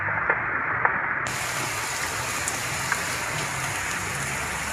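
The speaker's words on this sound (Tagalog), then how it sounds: "Sobrang lakas ng ulan." Heavy rain pours down steadily, a dense continuous hiss with occasional louder drops, no voices.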